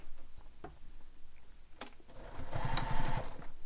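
A sewing machine starts up near the end to top stitch across the base of a handheld bag, a rapid ticking run of needle strokes after a few quiet handling clicks and knocks.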